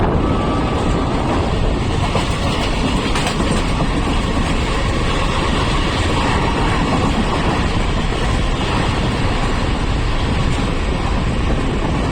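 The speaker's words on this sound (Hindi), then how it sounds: "हमारी ट्रेन 12450 चंडीगढ़ गोवा संपर्क क्रांति एक्सप्रेस" Steady on-board rumble of the 12450 Chandigarh–Goa Sampark Kranti Express running at speed, a loud continuous roar of wheels and carriage with faint clickety-clack and wind buffeting, no talking.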